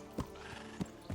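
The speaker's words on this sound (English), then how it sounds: "I'm actually going to take the horse to the tavern." Horse hooves in the medieval game Kingdom Come: Deliverance strike the ground in three separate clip-clop thuds, fairly close and loud against a low steady background, with no talk.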